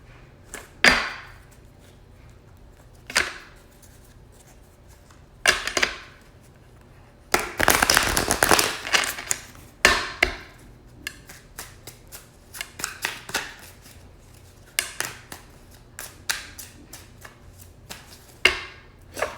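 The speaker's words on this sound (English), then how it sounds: "we're just going to shuffle the cards" Playing cards are shuffled repeatedly in quick riffling bursts, with pauses and soft taps between, close and crisp with no talking.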